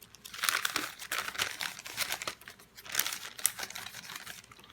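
Thin Tomoe River paper crinkles and rustles close by in a planner, in bursts of dry crackling and soft crunches with brief pauses, with no voice over it.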